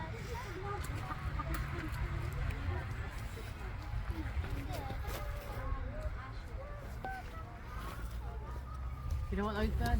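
Turkeys at Longleat call in repeated gobbling, clucking bursts close by, mixed with other birds and a steady outdoor rumble, as several people chat over the top.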